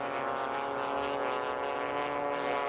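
Limited-class AT-6 propeller planes race around pylons at a 1995 Madera air race, giving a steady droning engine roar with a buzzing harmonic tone. The sound holds constant and fairly distant for a few seconds with no speech.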